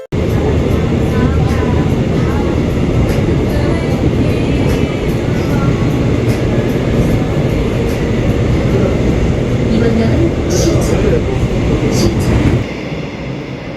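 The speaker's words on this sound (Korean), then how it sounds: "열차는 부전, 양정역을 지나 시청역에 도착합니다." A Busan subway train roars steadily along the tracks between Bujeon, Yangjeong and City Hall stations, a loud continuous rumble with faint rattling, easing off near the end.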